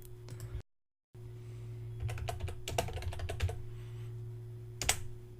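Quick bursts of clicks from a computer keyboard being typed on, close and fairly clear, with short pauses between runs and a steady low hum underneath.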